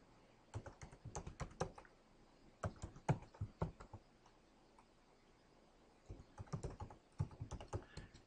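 Someone types a password on a computer keyboard in two brisk bursts of close, light key clicks, separated by a short pause.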